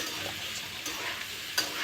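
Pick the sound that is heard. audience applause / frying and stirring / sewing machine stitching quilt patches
frying and stirring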